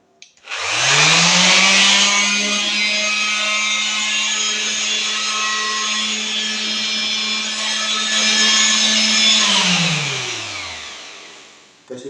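A corded power tool from a construction toolkit runs with no load to clear dust from inside, spinning up to a loud, steady high whine held for about nine seconds before winding down.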